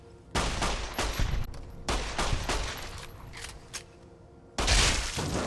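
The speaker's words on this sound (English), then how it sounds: "So happy to finally be shooting bullets again." Gunfire in the video game Fallout: New Vegas: loud, rapid bursts of shots in two long volleys with a brief lull between, close and booming.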